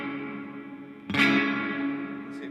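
Electric guitar sustaining a chord through an ambient reverb pedal with the tone knob turned all the way off, a new strum landing midway and a wash of reverb trailing behind it, no voice.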